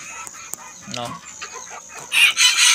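Serama chickens cluck in short bursts, close and fairly loud, with a scratchy crowing-like call toward the end amid faint background clatter, no clear talk over them.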